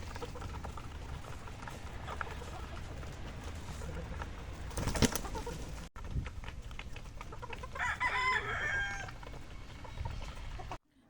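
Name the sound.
young gamecocks, chickens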